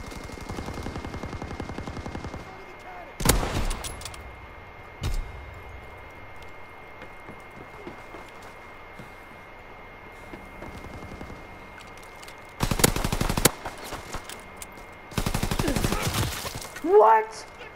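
Gunshots in a shooter video game, several separate sharp bursts of rapid fire spread across a quiet stretch, loud and close, with faint background hum between them.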